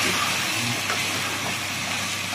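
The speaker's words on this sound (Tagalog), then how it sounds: "Halu-haluin lang po natin." Squid adobo fries in olive oil with a constant hissing sizzle, and faint stirring scrapes can be heard under it.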